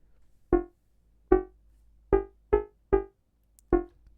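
A Vital synth patch with a third sine oscillator added sounds six short, bright plucked notes in a bouncy trap rhythm, each snapping in and fading fast, heard alone against silence.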